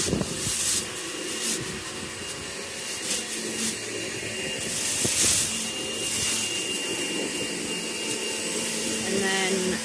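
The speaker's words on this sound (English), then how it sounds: "this is a pile of the lilander that we're going to shred" A garden shredder roars steadily, loud and close, chewing through a pile of leylandii cuttings with a broad hissing whine and intermittent crunching bursts as branches feed in; a voice speaks briefly beneath the noise.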